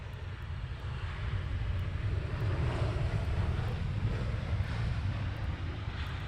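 Ryanair jet taxiing at Luton Airport, a steady distant engine rumble and whine carried on wind noise, continuous and unbroken with no talk.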